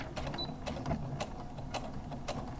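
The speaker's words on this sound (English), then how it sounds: "So now this is going to be stitched at 5/8 inch" A sewing machine stitching a 5/8 inch seam through foam, running in short rhythmic bursts about every half second, steady mechanical chatter at a modest, fairly close level.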